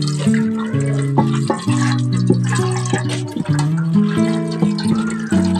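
Water is poured over grated coconut to draw out coconut milk, a close gurgling, splashing stream with bubbly pitched trickles that stop and restart several times.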